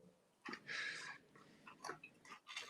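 Someone chews a bite of French duck liver close to the microphone, with wet, smacking mouth sounds in short uneven bursts and brief pauses between them.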